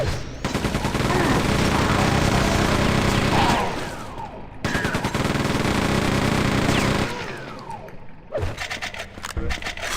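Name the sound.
machine gun firing in the video game Quake 2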